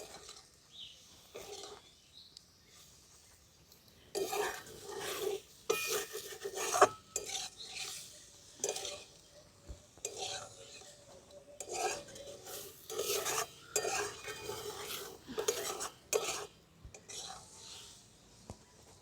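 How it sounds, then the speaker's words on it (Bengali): Spoon scraping and stirring in a pan as chopped coriander is mixed into a potato and flour snack, coming in irregular bursts of clattering and rasping with quiet gaps between. "এই ধনেপাতাগুলো এই নাস্তাটার সঙ্গে ভালো করে মিশিয়ে নিচ্ছি"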